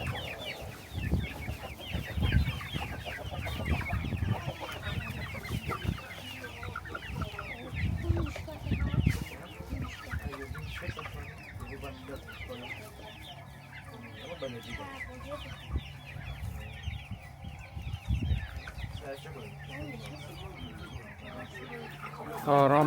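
Chickens and young chicks clucking and cheeping in a coop, a busy continuous flock chatter close by with louder bursts of clucking, a few low thumps and brief voices underneath.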